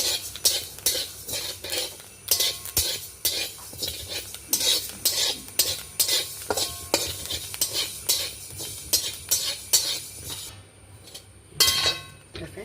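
Fenugreek seeds roast in a pan while a metal spatula stirs them, giving rhythmic scraping strokes and clinks over a soft sizzle, steady and close throughout.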